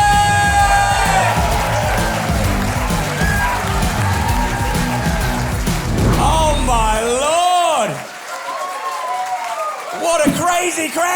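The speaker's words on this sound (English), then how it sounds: "What a crazy crowd!" A comedy club audience cheers and applauds loudly and densely, a sustained roar of clapping and whoops, before a voice takes over on a microphone.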